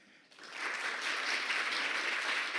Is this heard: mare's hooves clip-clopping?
no